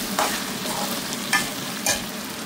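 Pork for dinuguan sautéing in a pan until browned, a steady close sizzle broken by three brief stirring scrapes, no voices.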